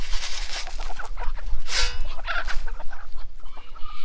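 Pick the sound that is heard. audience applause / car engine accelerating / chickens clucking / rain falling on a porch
chickens clucking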